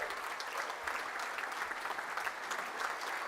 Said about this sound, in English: I think that needs a round of applause as well.